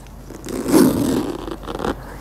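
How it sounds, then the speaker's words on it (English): A zipper on a Louis Vuitton bag is drawn along in one smooth pull, a short soft rasp close to the microphone that swells and fades, followed by a faint second scrape. "Let's listen to the zipper."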